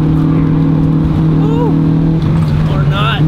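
A Honda Integra DC2 downshifts on a winding mountain road, the engine note dropping then blipping up with brief revving bursts, loud and close under in-car conversation.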